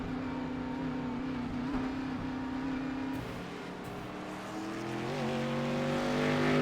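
A Camaro race car in iRacing accelerates back out from pit road at Indianapolis, its engine a steady, loud, sustained drone that dips briefly and then climbs again as the revs rise, with no talking.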